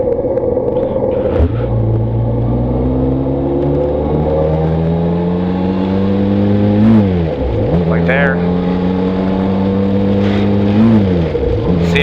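A close Benelli motorcycle engine revs repeatedly, pitch climbing steadily then dropping sharply before climbing again, loud and droning, with voices talking at times.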